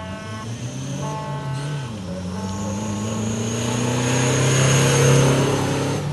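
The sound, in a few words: rally jeep setting off after flag-off, engine revving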